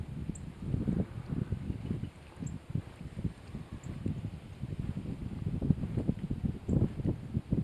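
Gusty wind buffets the microphone outdoors beside water during a fishing trip, a constant low rumbling roar with no talking.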